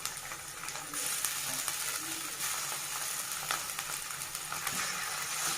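Ginger garlic paste frying in a pan with onions and curry leaves, a steady close sizzle with faint stirring scrapes, continuous and even throughout, no talk.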